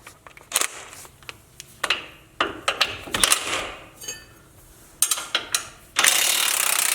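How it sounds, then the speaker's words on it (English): A ratchet clicks in quick bursts while working the 21 mm upper track bar bolt on a Jeep JLU during a lift kit install, with short pauses between the rapid pawl clicks and a louder rattling finish. "Next thing that I'm going to be taking off is the upper track bar bolt, and it is a 21 millimeter."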